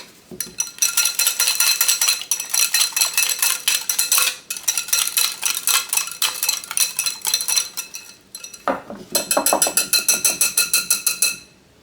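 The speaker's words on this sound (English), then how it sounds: "now mix them. Just whisk really well." A whisk clatters rapidly against the sides of a bowl while mixing a dip, a loud close metallic rattle in fast rhythmic bursts with brief pauses.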